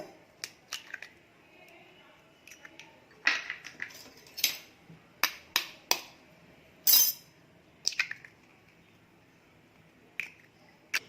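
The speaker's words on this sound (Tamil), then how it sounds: "முதல்ல ஒரு கிண்ணத்தில் ரெண்டு முட்டையை உடச்சி ஊற்றிக்கோங்க" Two eggs cracked into a bowl for a fluffy karandi omelette make sharp, quiet taps and glassy clinks, scattered irregularly and heard close up with pauses between them and no clear talk.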